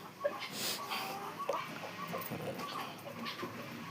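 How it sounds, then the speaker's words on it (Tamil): Chickens cluck in a farmyard after rain, with a grey hen among them; several short clucks and calls come close and repeatedly over faint background noise. "இந்த கிரே கலர் கோழி தான் முட்டை போட்டுக்கிட்டு இருக்கு."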